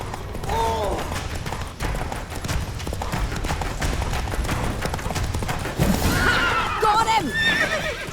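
Geralt's horse Roach in The Witcher 3 gives loud whinnies over galloping hoofbeats, with a second neigh near the end amid combat noise and game dialogue.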